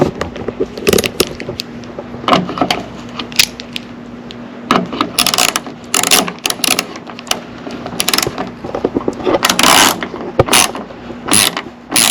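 Tail light parts on a Lexus SC430 are fastened back on with a ratcheting tool, giving loud, close bursts of rapid clicking separated by short pauses. Small plastic parts rattle and clatter between bursts, and nobody speaks.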